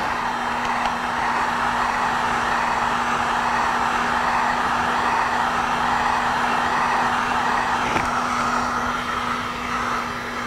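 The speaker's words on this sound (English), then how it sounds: "when you're using a heat gun, you know, be careful." Heat gun blowing hot air onto Corvette seat foam, a loud, steady, close whooshing roar with a constant electric whine underneath, running unbroken throughout.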